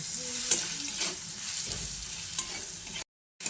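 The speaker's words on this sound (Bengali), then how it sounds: "দিয়ে আলুটাকে বেশ লাল লাল করে ভেজে নেব।" Potato pieces fry in a pan with salt and turmeric, a steady sizzle with intermittent scraping stirs, close and alone with no talk, ending in a brief cut to silence.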